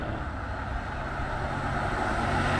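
Cars pass on a road in Matamoros, Tamaulipas, at dusk, with a steady broadband traffic rumble and hiss, moderately near and continuous, and no talking.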